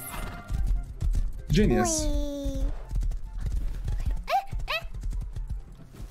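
A horse in the survival game Rust neighs and whinnies loudly near the middle, with steady clip-clop hoofbeats running throughout, while people talk over it.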